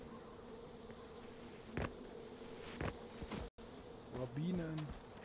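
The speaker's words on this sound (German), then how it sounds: "Bienen." Bees buzz in the game Far Cry 4, a steady faint drone in the background, while a voice speaks briefly near the end.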